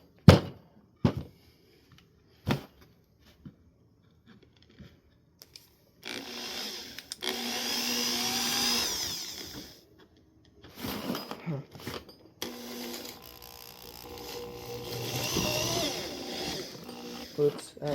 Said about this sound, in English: Put this in here, drill all the way through the wood